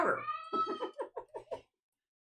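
A cat meows nearby, one long drawn-out cry followed by a string of shorter, choppy meows that stop abruptly into silence.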